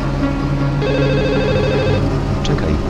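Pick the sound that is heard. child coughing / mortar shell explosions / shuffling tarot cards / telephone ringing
telephone ringing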